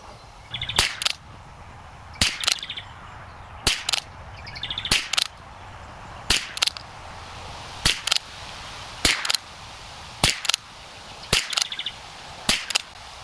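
Rimfire rifle shots from American .22 ammunition, a steady string of about ten sharp cracks spaced roughly a second apart at an outdoor range, with faint birdsong between them.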